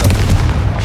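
A short, loud blast from the Confringo fire spell in Hogwarts Legacy, a heavy low boom with a quick follow-up thump, close and dominant.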